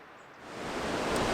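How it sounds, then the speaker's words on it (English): Strong wind gusting around a boat at Christmas, a broad rushing roar that swells louder over a second and a half, with no voices. "It's very windy."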